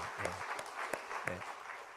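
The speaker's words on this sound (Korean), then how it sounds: "우리 축하의 박수합니다" A church congregation applauds in celebration during a Sunday worship service, a steady wash of clapping with a few voices breaking through briefly.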